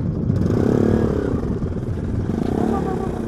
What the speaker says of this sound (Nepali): कतिवटा बाइक साइक आएको भएर होला है